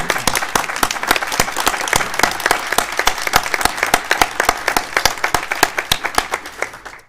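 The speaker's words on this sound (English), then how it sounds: "How about a quick round of applause for our two newest principals?" A room at a school board meeting breaks into steady, brisk clapping from a modest crowd that keeps an even rhythm for several seconds before tapering off.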